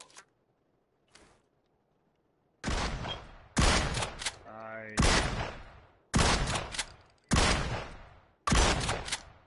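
Repeated gunfire at a shooting range in PUBG: after a quiet start with a couple of faint clicks, six loud, sharp shots ring out at roughly one-second intervals, each trailing off in a short echo.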